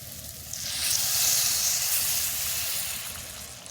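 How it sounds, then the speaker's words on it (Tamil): A pan of prawn curry with masala hisses and bubbles steadily, a continuous sizzling simmer that swells slightly and holds, close by with no talking. "நல்லா கொதிக்க ஆரம்பிச்சுட்டு"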